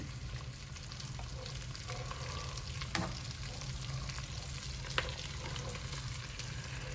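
Onions, carrots and celery soften in melted butter in a soup pot, giving a steady, even sizzle that holds at a moderate level throughout, with a couple of brief clicks from a utensil against the pan.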